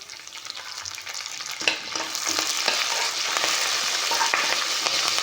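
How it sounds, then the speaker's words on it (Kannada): Curry leaves frying in a pan for a fresh field bean (avarekalu) curry, giving a loud, continuous close sizzle with crackling pops and occasional stirring scrapes, and no talking. "ಚೆನ್ನಾಗಿ ಫ್ರೈ ಮಾಡ್ಕೊಳ್ಳೋಣ. ಇದಾಗಿದೆ ಫ್ರೆಂಡ್ಸ್. ಇದಕ್ಕೆ ಕರಿಬೇವಿನ ಸೊಪ್ಪು ಹಾಕ್ಕೊತಾ ಇದ್ದೀನಿ."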